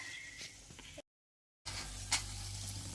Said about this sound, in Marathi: तर अशाच पद्धतीने आपण सर्व फ्राय करून घेऊया